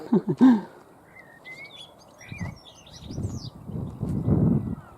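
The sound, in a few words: birds singing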